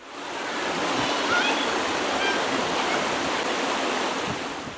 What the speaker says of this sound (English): listening to the river burble over the rocks